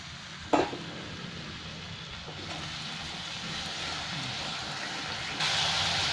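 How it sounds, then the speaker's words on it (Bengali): A soft, steady sizzle of a cumin and coriander powder masala frying with a splash of water in a pan, with a small clink at the start and the hiss growing slightly louder toward the end. "এটাকে একটু জল দিয়ে ভেজে নেবো মশলাটা।"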